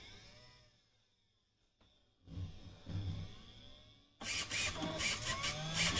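A homemade Arduino automatic wire stripping and cutting machine running with servo-driven parts: a soft whirring and clicking that fades, then starts again and ends in a louder, sustained mechanical buzz, no voices.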